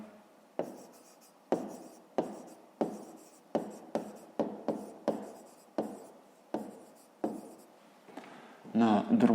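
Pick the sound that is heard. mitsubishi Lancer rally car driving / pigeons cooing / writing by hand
writing by hand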